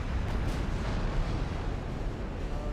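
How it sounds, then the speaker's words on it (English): Battleship main guns firing high-explosive shells in a naval video game, heard as a continuous low rumbling roar of heavy gunfire and blasts, moderately loud and unbroken, with no talking. "Why are we shooting HE out of our main guns at battleships?"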